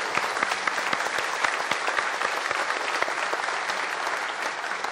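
Sustained applause from a studio audience at a Brazilian music television show, dense clapping holding steady and loud throughout, paying tribute to the late country singer.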